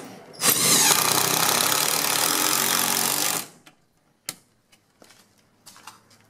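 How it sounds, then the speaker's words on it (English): A power drill drives screws into a left wall bracket for a Modern Flame electric fireplace, set over pre-drilled tile: one loud sustained whir of about three seconds, then a few faint clicks and knocks. "So 3 screws go in there."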